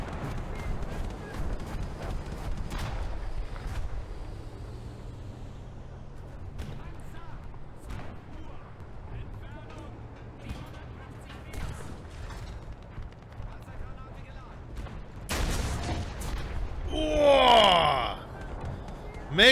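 A Sturer Emil tank destroyer's heavy gun in War Thunder fires a shell with a sudden, loud broadband blast and rumbling tail late in the clip, following a stretch of quieter battlefield noise and engine rumble.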